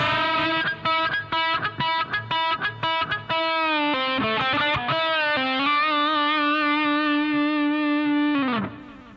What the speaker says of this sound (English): The next lick features a really cool percussive trick that I'm going to show you with the right hand